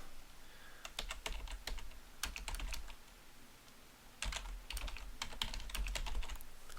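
Quick bursts of typing on a computer keyboard at home, clustered keystroke clicks with short pauses between runs, fairly quiet and close.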